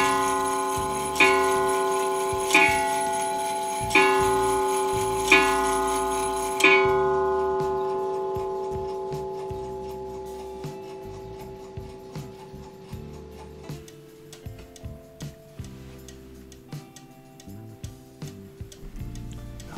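Antique blue Royal Bonn Ansonia mantle clock striking several resonant chime notes at a slow, even pace, the ringing tones decaying into a close, steady mechanical ticking that carries on alone.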